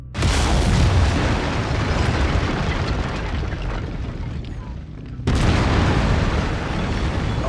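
A mech firing lasers in MechWarrior 5: Mercenaries, with a loud, sustained roaring blast that slowly fades and then cuts back in sharply with a second burst near the end.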